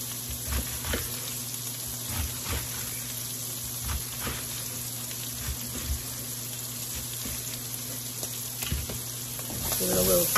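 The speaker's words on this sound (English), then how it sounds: "Give it a little stir so it doesn't burn." Chopped cabbage fries in a pan with a loud, steady sizzle. Repeated scraping and clunking stir strokes come through close up, and the sizzle swells near the end.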